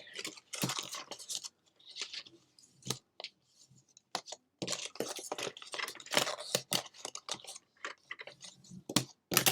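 A bone folder rubs firmly over a paper craft piece, giving a series of dry, scratchy scraping strokes in quick irregular bursts with short pauses, close and moderately loud.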